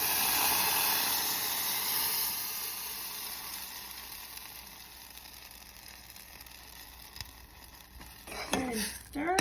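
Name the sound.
blended salsa sizzling as it is added to hot oil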